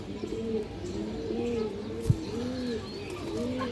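Large fancy pigeons in a market coo in repeated low rolling phrases, several birds close together, with faint chirps and one sharp knock partway through.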